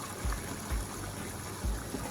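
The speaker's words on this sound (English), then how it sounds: "Now I'm going to pour some water" Water pours from a kettle into a pot of Jamaican curry goat, a steady close trickle with a few low glugs, no voices heard.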